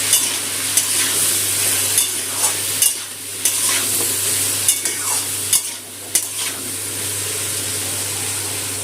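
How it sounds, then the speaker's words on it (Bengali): Diced potatoes tossed with salt and turmeric fry in a pan, giving a steady close hiss broken by repeated short stirring scrapes, with a low electrical hum underneath and no talking. "আলুটা একটু লাল করে ভেজে নিচ্ছি।"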